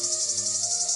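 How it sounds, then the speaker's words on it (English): A male cicada's mating call rings out as a continuous, high-pitched buzzing drone with a slight pulsing shimmer, loud and close, steady for the whole second with no other sounds. "It somehow manipulates infected male cicadas into changing their mating call,"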